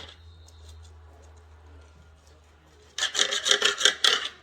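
A knife saws through a smoked boneless prime rib cooked on a Traeger, starting after a quiet stretch with a burst of rapid, rhythmic rasping strokes close by that runs steadily to the end.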